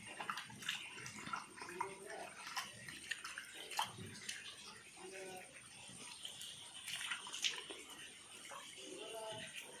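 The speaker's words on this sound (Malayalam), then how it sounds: "അപ്പോൾ നമ്മൾ ആദ്യം മുളകിലെടുത്ത് കഴുകാൻ പോവാണ്." Chili leaves are washed by hand in a basin of water for a monsoon leaf curry. Faint sloshing and dripping come in uneven bursts, with quiet background voices murmuring.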